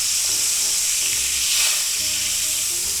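Butter melting in a hot cast iron pan that holds browned bits left from searing a thick chuck steak, giving a steady, loud sizzle and frying hiss throughout.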